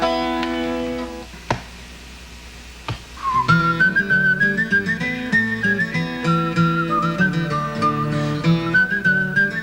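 A person whistles a lilting folk melody, imitating the sound of a tin whistle, in a 1979 concert setting; a sustained whistled line rides over acoustic guitar and band accompaniment after a few sparse opening notes.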